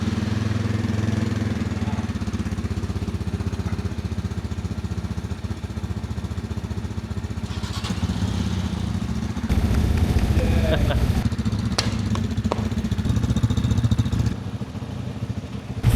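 A fuel-injected RPS Cruiser 300 scooter engine running steadily at close range, with a thrumming idle that picks up a little partway through, and a few clicks and knocks over the top.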